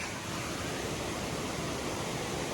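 Creek water rushes at Amicalola Falls in Georgia, a dense, constant roar of flowing water close by with no voices over it.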